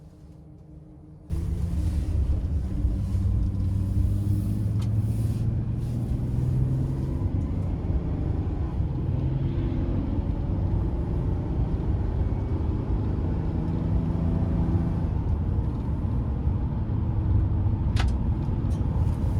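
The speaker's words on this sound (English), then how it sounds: "take this Ram 2500 ProMaster Explorer conversion van out on the road for a quick test drive." A 2021 Ram ProMaster 2500 Explorer conversion van drives on the road, with a steady, loud engine and road rumble that starts abruptly after a brief quiet moment and then continues alone without talk.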